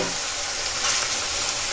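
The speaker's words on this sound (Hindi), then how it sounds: "तो मीडियम फ्लेम में करना है फ्राई।" French fries frying in hot oil over a medium flame, a steady, loud, hissing sizzle that stays even throughout with no talking.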